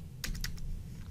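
A computer keyboard is struck in a quick run of four or five crisp keystrokes, close and clear over a low background hum.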